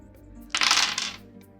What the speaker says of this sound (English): I don't like hearing the dice at the table.